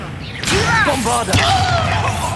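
A Bombarda blasting spell is cast in the video game Hogwarts Legacy, a loud whooshing burst followed by a heavy explosive crash and rumbling debris, filling the whole moment.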